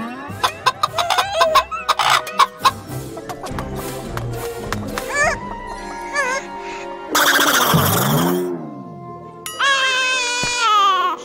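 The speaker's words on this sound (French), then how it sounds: "C'est juste une gentille poule." A hen clucks and squawks up close, mixed with a child's crying and other busy, shrill sounds in a lively scene.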